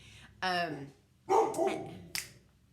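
Dogs in a home bark in a few separate outbursts: a sharp bark, a pause, then a rougher bark with whining, ending in a short yip, all fairly close.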